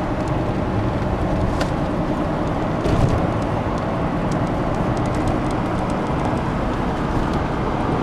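A clutchless electric DeLorean cruises steadily in third gear at almost 3,000 RPM in the fast lane, a constant broadband road and drivetrain roar that holds level throughout.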